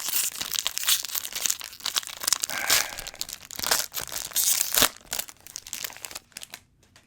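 Foil wrapper of a 2021 Bowman baseball card pack crinkles and tears open, a continuous close-up rustle with crunchy bursts that fades near the end.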